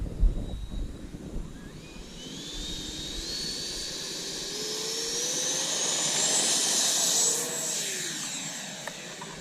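A Freewing J-10A 90mm RC model jet spools up and takes off, its ducted fan whine rising into a loud, sustained rushing roar that sweeps past and then fades slightly, heard outdoors at an airfield.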